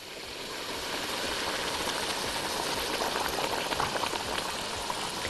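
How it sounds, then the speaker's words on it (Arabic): Boiling water poured into a pot of kabsa meat and stewed tomatoes, a steady loud bubbling sizzle with hissing that holds throughout, no voices. "احط ميه مغليه."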